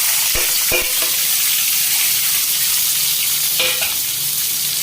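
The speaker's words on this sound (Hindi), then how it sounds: "अब इसमें प्याज डाल देंगे।" Onions sizzling in hot oil for Sindhi-style tinda (round gourd) sabzi, a steady loud frying hiss with a few sharp clinks of a utensil against the pan near the start and again later.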